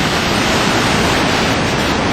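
Loud river water rushing below the eroded concrete ruins of an old mill at Livermore Falls, a steady broadband roar of churning current that stays constant and close throughout with no talking.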